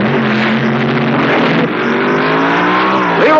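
Nitromethane-fueled funny cars launching side by side at the 1970 NHRA U.S. Nationals drag race, a loud, continuous, ragged engine roar with rising pitch that swells again near the end.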